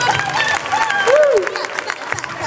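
Audience applause at an Italian Corrida stage show, a short burst of clapping and crowd noise mixed with a few whistled tones, lively and fairly close.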